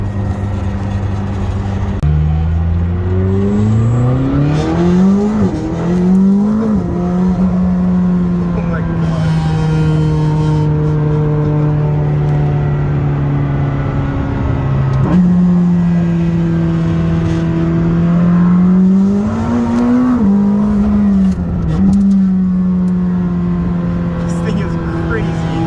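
From the cabin of a McLaren 620R, a raw, race-car-like engine roars through repeated hard accelerations, pitch sweeping upward with each gear then holding steady, loud and continuous for the whole stretch.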